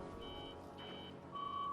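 An electronic alert in the Destiny 2 video game beeps in short repeated tones over a dense game soundscape, with a longer sustained tone at the end.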